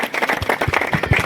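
Clapping breaks out at a ceremony for a state-level volleyball tournament held for Dhanu Sankranti: a short burst of close, irregular hand claps from a small crowd.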